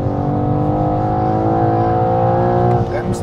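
A BMW M4 accelerates on the Nordschleife, its engine note loud and close, droning and climbing steadily under gentle throttle while a voice talks over it.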